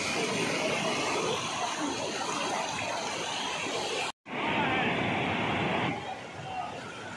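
Flowing water at Sahastradhara waterfall in Dehradun makes a broad, continuous rushing roar, briefly cut off near the middle and then returning slightly quieter, with faint crowd murmur underneath.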